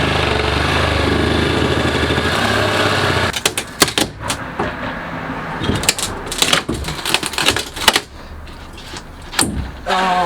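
Pneumatic staple gun firing during an RV interior renovation: a steady compressor-like drone gives way to a rapid series of sharp, close staple bangs at uneven intervals.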